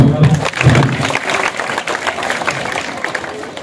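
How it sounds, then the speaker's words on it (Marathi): An audience claps loudly at a prize announcement for a children's painting competition, with dense, steady applause filling the room and a voice briefly audible at the start. "जोरदार टाळ्या"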